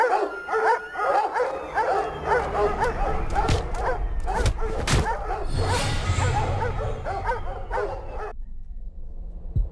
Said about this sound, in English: And the dogs are coming at us